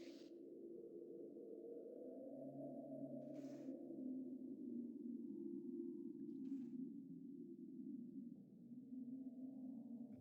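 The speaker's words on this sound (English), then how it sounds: "That is absolutely humming in the soundtrack." Eerie low humming drone from a horror map's soundscape in GMOD VR, a soft sustained wavering tone that swells and dips slowly, with a couple of faint brief clicks, quiet and without speech.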